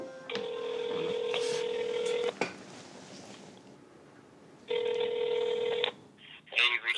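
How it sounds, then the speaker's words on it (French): A telephone being dialed, with tones sounding in a long steady burst, then a short click, then a second tone burst, and a soft voice at the very end. "On le contacte par téléphone et c'est fini."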